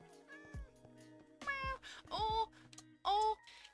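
Several short meows from a cat in a Minecraft village, each a rising-falling tonal call with pauses between them, close and clear over a faint game background.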